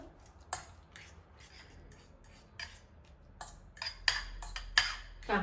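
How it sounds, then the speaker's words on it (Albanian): A spoon stirs a healthy breakfast mixture in a bowl, giving scattered clinks and scrapes that grow quicker and louder toward the end. "vetëm tash përzit mirë masën"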